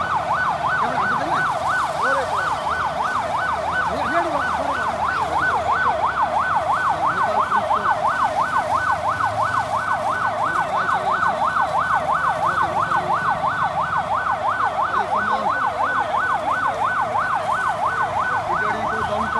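Fire engine sirens at a fire near Biratnagar wail in a fast, regular up-and-down cycle, loud and steady for the whole stretch over background rumble, with no talking.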